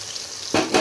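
Bitter gourd chips frying in hot oil crackle up in two short, loud bursts of sizzling close by, after a quiet moment.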